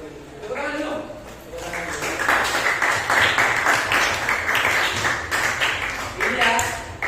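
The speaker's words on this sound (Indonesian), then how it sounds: "Tepuk tangan dulu" Classroom applause from students in a lesson, a broad burst of clapping rising after a brief pause and holding steady for several seconds, with voices mixed in near the end.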